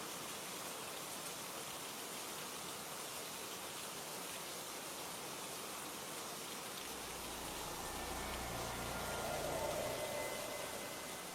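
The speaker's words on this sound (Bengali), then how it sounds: "বৃষ্টি" Steady rain falling in a cartoon scene, a dense continuous hiss that swells slightly louder toward the end, with a low rumble entering partway through and no voices.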